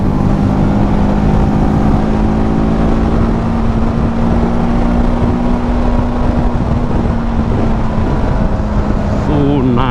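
A TVS Apache RTR 310 motorcycle engine pulls hard with a loud, steady droning tone and heavy wind rush throughout, recorded close while riding.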